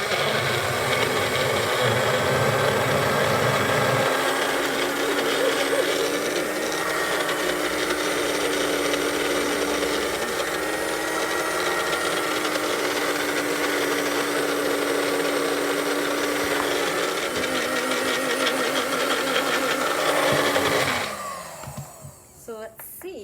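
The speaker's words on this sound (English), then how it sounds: "Let's blend it now." A kitchen blender churns a banana and chocolate ice cream mix in a steady, loud whir that holds for about twenty seconds before cutting off abruptly, with brief talk mixed in near the end.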